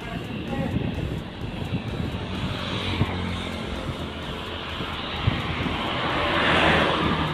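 Batu Mukti Putra jet bus passing by on the road in Sumatra, a broad engine and road rumble with wind buffeting that swells louder toward the end as it nears, heard over continuous background noise.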